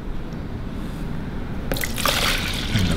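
Rice vinegar, 500 cc, poured into a container: quiet background at first, then a steady trickling splash of liquid filling the vessel for the final second or so.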